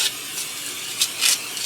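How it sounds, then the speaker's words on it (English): Olive oil is sprayed onto raw chicken in a short burst, then a louder second spray follows, each a close, airy hiss. "I'm going to take my chicken and I'm going to spray it with some olive oil"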